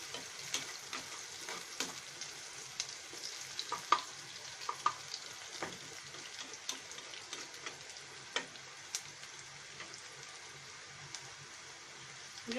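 Onions frying in oil in a pan for a sponge gourd and egg stir-fry, a soft steady sizzle with faint scattered pops and ticks, quiet and close without any talking.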